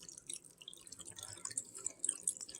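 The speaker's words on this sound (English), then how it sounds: "I will take it and put some water into it" Water from a tap trickles into a mug, faint and close, with irregular drips and splashes over a quiet background and no voices.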